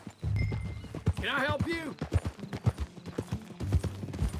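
Horse hooves clip-clop at a walking pace in Red Dead Redemption 2, a steady near rhythm running under a short spoken question, with a brief whinny-like sound in the middle.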